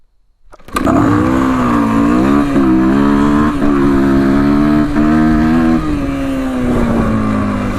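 A race motorcycle launches from a start line. After a brief quiet moment the engine bursts into a loud, close roar and keeps accelerating steadily, with pitch steps as it pulls through the gears.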